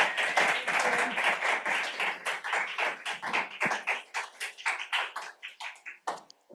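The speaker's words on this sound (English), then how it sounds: "please join me in giving our speakers a warm round of applause." An audience applauds speakers after a panel discussion, with loud, fairly sparse clapping whose separate hand claps stand out clearly and thin toward the end.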